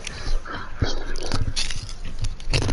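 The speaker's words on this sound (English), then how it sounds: "I can hear him, and I can hear Junior just munching on things." A dog munches and chews on things close by, with wet, irregular bites and gnawing over a steady background hiss.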